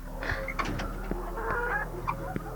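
Barnyard chickens, including a brooding hen, cluck and chatter repeatedly at close range over a low steady hum, with calls overlapping in a busy flock without any talking.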